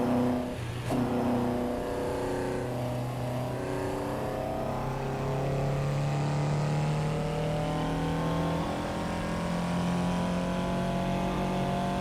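Toyota AE86 engine in Assetto Corsa EVO, a steady, sustained engine drone with a clear harmonic tone holding at moderate revs and rising slightly, heard close and alone without speech.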